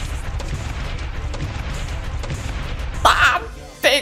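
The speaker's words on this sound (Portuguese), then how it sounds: "Pega explosão!" Game explosion during a boss fight, a sudden loud burst near the end following a stretch of steady background action and a second impact right after; a voice talks underneath.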